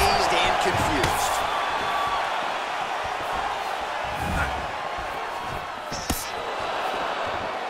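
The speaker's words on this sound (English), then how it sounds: "you hear the crowd react every time they come together" A crowd watching a street fight murmurs and shouts throughout, with a sharp thud near the end and bursts of excited reaction as the fighters trade strikes, partly under a commentator's voice.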